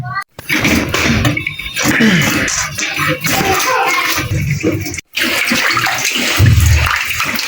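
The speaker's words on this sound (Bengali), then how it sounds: "মাংসটা একটু ধুয়ে নিচ্ছি।" Tap water runs steadily over raw chicken meat being washed in a kitchen, a continuous splashing wash with brief gaps and occasional knocks as the pieces are handled.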